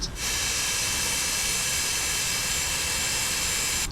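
Steady loud roar and high whine of McDonnell Douglas MD-80 jet engines in Microsoft Flight Simulator 2024, heard from outside the airliner, a continuous broadband rush that holds even from start to end.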